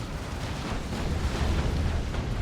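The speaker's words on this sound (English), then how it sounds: "they're going to get plasma cannon shots on them" Heavy plasma cannon fire striking a squad of Paladins in a Dawn of War II: Retribution 3v3 battle, a dense continuous rumble of blasts and booms with no distinct separate hits.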